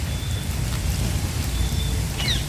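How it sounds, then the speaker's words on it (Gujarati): Light rain falls steadily outside a hospital with neem trees, grass and a four-wheeler parking area, a constant soft hiss with low rumble underneath and a faint bird chirp near the end. "ધીમા થોડોક ધીમો પડ્યો છે વરસાદ"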